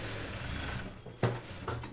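A sewing machine stitches a lined suit with a steady mechanical hum, broken by a sharp click partway through before the stitching resumes.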